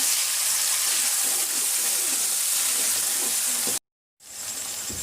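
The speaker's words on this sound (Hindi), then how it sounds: "टमाटर ऐड किया, और अब हम इसको अच्छे से भूनेंगे।" Tomatoes fry and sizzle in a pan for chicken dal gosht, a steady broadband hiss that runs for several seconds, cuts out abruptly into silence, then resumes, with no talk.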